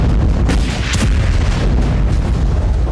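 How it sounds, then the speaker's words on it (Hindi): Air strikes on Gaza send heavy explosions rumbling, a dense, loud, continuous booming roar with a few sharper blasts standing out. "आईडीएफ ग्राउंड ऑपरेशन और एयर स्ट्राइक के जरिए वेस्ट गाजा को दहला रहा है"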